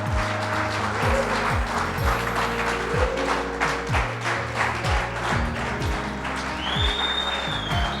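A church congregation applauding in praise during a French-language service, a dense wash of clapping over a rhythmic repeating low bass pattern of music, with a faint voice rising near the end.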